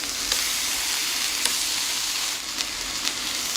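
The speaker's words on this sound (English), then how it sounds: "And right in here, I put the tomatoes. And I'm gonna kind of cook them a little bit, almost like ketchup" Tomatoes cooking down in a pan for mozzarella cheeseburgers give a steady, close, loud sizzle and crackle that runs without a break, with a few faint pops and no voices.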